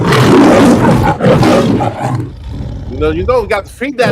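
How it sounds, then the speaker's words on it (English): A lion roars loudly and close in the opening seconds, with a voice talking over and after it. "And that's the lion in the background."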